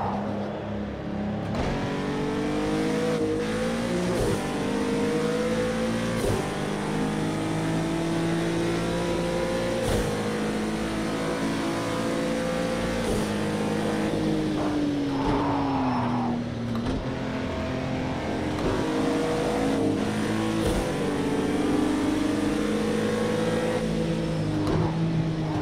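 A loud 2017 Acura NSX engine revving continuously in the racing game Project Cars 2 in VR, pitch rising and falling with gear shifts, with a brief tire squeal partway through.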